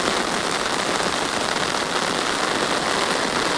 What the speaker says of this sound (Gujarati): આમ સારો વરસાદ પડે છે.